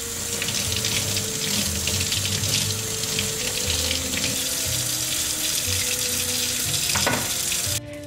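Tap water running steadily into a sink while serving board pieces are washed, a continuous close splashing rush that stops abruptly near the end; no talking.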